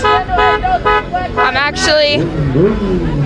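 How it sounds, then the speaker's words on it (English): Car horns honking on a busy city street during a 2020 Black Lives Matter protest after curfew in Lincoln, Nebraska, loud repeated toots mixed with traffic and people talking nearby. "Lots of honking, guys."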